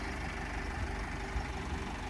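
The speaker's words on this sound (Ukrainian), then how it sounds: "Ну і роботу мотора, я думаю, чутно зразу." A 2013 Opel Vivaro van's 2.0 diesel engine runs at a steady idle, a low continuous rumble with faint rhythmic pulsing and no voices.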